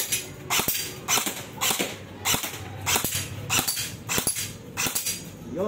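An upgraded Noveske airsoft rifle fires on full auto in several quick bursts of sharp, snappy cracks, loud and close, with brief gaps between the strings of shots.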